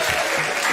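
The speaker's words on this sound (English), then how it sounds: "Round of applause," Brief burst of dense, steady clapping from an audience, loud and close, with no voices over it.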